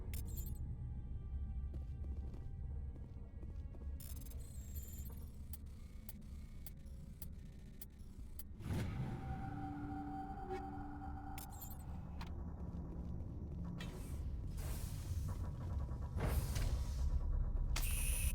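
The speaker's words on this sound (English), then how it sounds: "Elevator, elevator." An elevator ride in the Mass Effect Legendary Edition game gives a steady low mechanical rumble with scattered clanks and ratcheting ticks, then a humming whine that rises halfway through and holds to the end.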